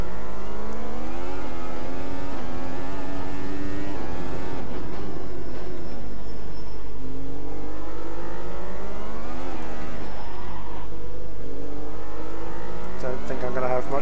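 Formula 1 cars race in the Automobilista 2 sim, their high-pitched engines rising and falling through gear changes as they accelerate and brake around a small track, loud and continuous under steady commentary.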